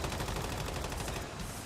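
M4 rifle fire in the video game Once Human, a dense, rapid automatic burst with fast repeating shots filling the clip at close range.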